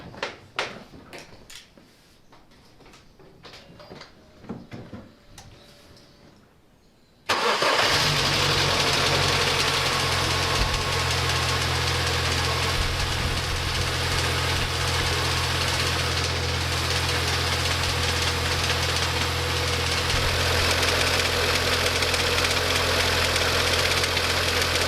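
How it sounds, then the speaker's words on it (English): A MINI Cooper engine with a slapping timing chain starts abruptly after a few quiet seconds of clicks and rustles, then runs loud and steady at idle with a rough, rattling mechanical edge. "I'm now going to start the engine just to hear that timing chain slap around"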